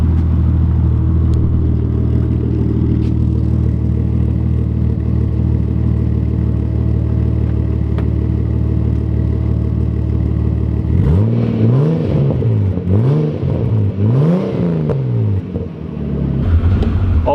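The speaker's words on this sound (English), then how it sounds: "I'll let you hear the exhaust real quick." An RB engine in a rebuilt JDM drift car idles with a steady, loud, close exhaust drone, then revs sharply several times in quick rising and falling blips.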